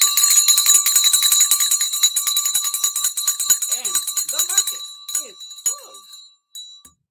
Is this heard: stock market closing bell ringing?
yes